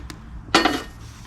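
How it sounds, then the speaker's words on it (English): Metal frying pan set down onto a wood cooking fire outdoors, a single sharp metallic clank with brief ringing, preceded by a faint tap, close and clear. "Chuck that frying pan right on there"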